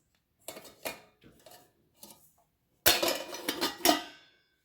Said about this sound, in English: And here I have my two masala dabbas. I'll just open them and show you.